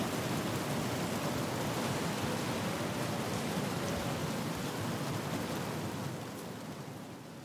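Steady rain hiss from the video game Battlefield Hardline, a dense broadband wash filling the whole stretch and easing slightly near the end, with no talk over it.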